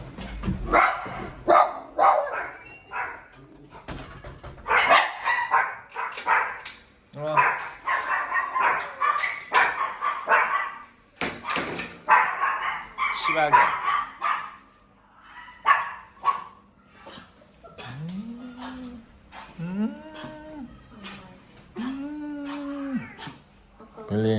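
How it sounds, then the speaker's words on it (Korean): Many dogs bark and yip in quick, overlapping bursts, some close and some farther off, and a few whimpering cries come near the end. "강아지 엄청나게 많다"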